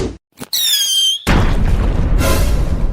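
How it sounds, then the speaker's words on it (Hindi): In a Diwali cartoon, a firecracker whistles upward with a rising, squealing tone, then bursts into a loud, rumbling boom that tails off into crackle. It stands alone without voices. "जो पटाखा तुमको खरीद के दिए हैं वही फोड़ के मनाओ दिवाली।"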